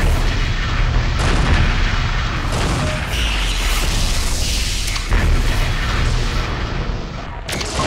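Heavy weapon fire in the mech combat game MechWarrior 2: Mercenaries, a loud rolling barrage of booming blasts and rumbling impacts, with several abrupt bursts breaking through the continuous din.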